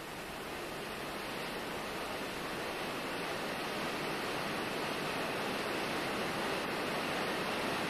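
Below the Tafjord dam, a waterfall in a refilled old riverbed roars as a steady, dense wash of rushing water, loud and unbroken throughout.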